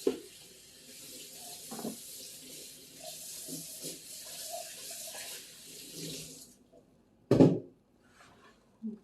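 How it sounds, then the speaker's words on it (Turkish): Dishes are washed at a kitchen sink under a running tap. A steady, close hiss of water with faint clatter lasts about six seconds, then stops, followed by a single loud clunk. "Tabaklarımı da yıkadım iyi oldu."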